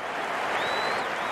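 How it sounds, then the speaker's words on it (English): A stadium crowd in the cricket video game Cricket 19 applauds and cheers in a dense, continuous roar, steady and loud throughout the brief moment. "The crowd are loving this."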